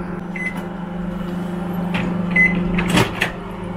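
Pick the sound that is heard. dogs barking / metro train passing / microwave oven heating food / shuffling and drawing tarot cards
microwave oven heating food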